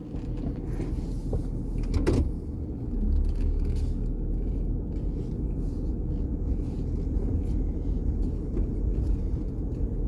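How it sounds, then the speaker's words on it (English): A truck drives down the road, its steady low engine rumble filling the scene from inside the cab, with a brief rattle and a small swell in the drone early on. "I'm gonna get ready to drive this truck down the road."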